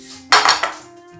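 A clay tagine pot for a wood-fired fish tagine is handled, giving a short clattering knock of ceramic with a couple of quick clinks close by, then quiet.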